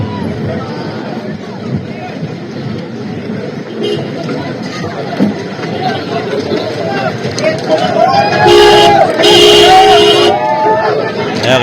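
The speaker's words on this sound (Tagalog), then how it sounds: "kinukuyog po yung sasakyan ni Tito Soto" A crowd swarms Senator Tito Soto's departing car, a busy babble of many voices and movement building toward the end, with a nearby voice talking over it.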